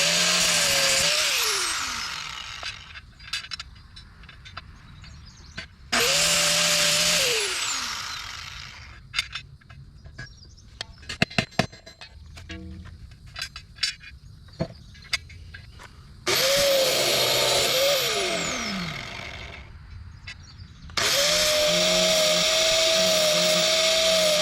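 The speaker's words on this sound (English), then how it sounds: "Hit that with the grinder a little bit." A handheld angle grinder grinds the metal of a homemade disc cooker in several long, loud bursts of high-pitched whine that rise and fall, with quieter tapping and handling noises in the gaps between them.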